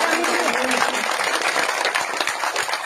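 Dense, steady applause from an audience at a public gathering in a Haryana village, with the clapping continuous and loud throughout and faint voices mixed into the crowd noise.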